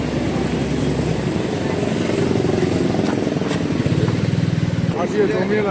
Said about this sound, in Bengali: এই পুরো জুড়ে শুধু বাইক আর বাইক